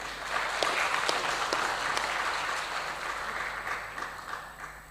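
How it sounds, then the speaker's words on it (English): Conference audience applauding at a space conference in Malawi, a steady roomful of clapping heard from a moderate distance that slowly fades. "May I ask that we give Doc another round of applause?"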